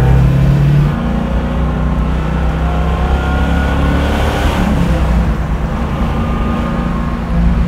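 A restored 1970 Chevrolet Camaro muscle car with a 350 V8 rumbles loudly and close as it drives off, its deep engine note holding steady throughout.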